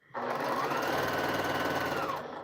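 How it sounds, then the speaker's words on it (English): A sewing machine runs steadily for about two seconds while stitching scrappy Drunkard's Path quilt pieces, a close, continuous mechanical whir with a fast rhythmic needle chatter that starts and stops abruptly. "I'm going to try just to randomly sew these."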